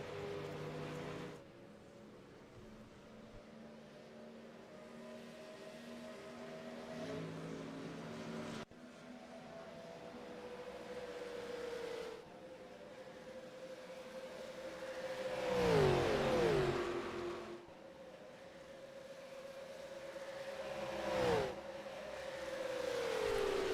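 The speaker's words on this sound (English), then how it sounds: "try to see if you guys can get and listen to these cars going around the racetrack" All American Cup Series race cars circle the Talladega racetrack, heard as a distant, faint engine drone with two louder passes as cars sweep by, their pitch dropping as they go.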